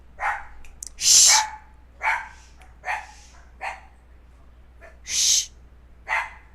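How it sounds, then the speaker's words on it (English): A dog barks repeatedly nearby, a run of seven or so loud, spaced barks with short pauses between them and no talking. "Sorry about the dog."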